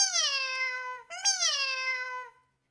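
Two drawn-out cat meows in quick succession, loud and close, the second rising slightly before trailing off into silence.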